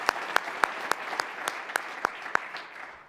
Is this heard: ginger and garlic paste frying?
no